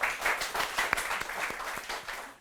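Audience applause at a comedy show quarterfinal, a steady round of clapping with distinct sharp claps rising above it, lasting a couple of seconds before fading out.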